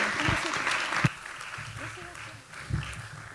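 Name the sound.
applause for the speakers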